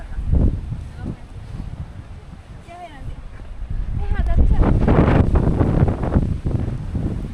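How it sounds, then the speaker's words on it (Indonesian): Strong gusting wind during a storm on the summit of Mount Burangrang, buffeting the microphone in heavy roaring surges that build louder in the second half, with a person speaking briefly over it. "Anginnya besar."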